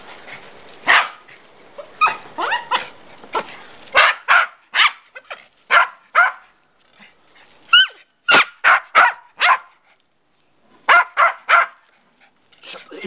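An angry dog barks in quick bursts of loud, sharp barks with short yips between them, close by and insistent across the whole stretch, with no talking.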